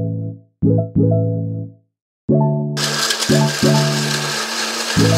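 A kitchen blender whirs in several short start-stop pulses, its motor whining with a steady pitch, then runs longer with a harsh grinding roar as it blends a drink, loud and close.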